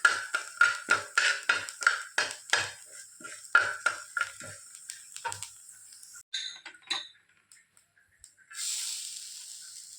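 Rice fried in a metal pan is stirred with a spatula, a rapid run of sharp scraping clinks that thins out into scattered taps before a soft sizzle rises near the end, close and with no talking.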